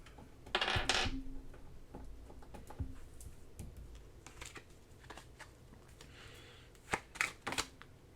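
Oracle cards being shuffled by hand during a tarot-style reading, with soft papery riffles and flutters and a few sharper snaps near the end, fairly close and quiet, with no talking.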